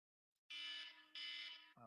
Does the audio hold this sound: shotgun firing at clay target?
no